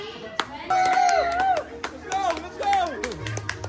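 Several people clapping sharp individual claps in an uneven rhythm at a Miss Madrid pageant and beer pong gathering, close by and mixed with excited shouting and talk.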